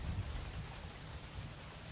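Rain falls steadily in the driving game Mon Bazou, a dense, even hiss with a low rumble underneath that stays at a quiet level throughout.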